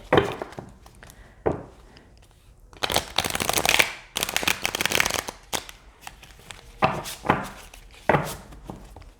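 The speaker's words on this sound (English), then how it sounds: "So for those of you who like to do reversals, this way of shuffling is really nice." Tarot cards are shuffled by hand in repeated riffling bursts and soft slaps, close and moderately quiet, with irregular pauses between each pass and no talking.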